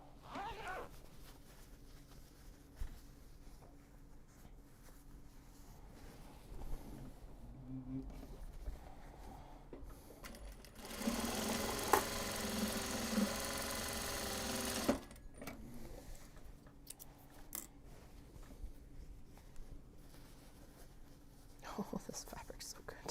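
Sewing machine stitching Japanese fabric into large box bags runs in a loud burst of about four seconds midway. Quiet whispering and soft handling noises surround it.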